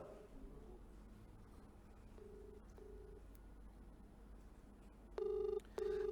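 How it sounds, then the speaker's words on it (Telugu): An outgoing phone call rings on the line, with short repeated ringback tones over a low background hum, followed by louder, sharper tone bursts near the end. "నటి హేమ ఫోన్ రింగ్ అవుతుంది."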